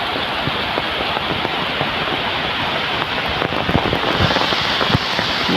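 Rain falling steadily on an open village farm field, a continuous close hiss of drops with scattered louder patters that swell slightly toward the end.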